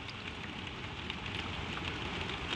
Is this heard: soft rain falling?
yes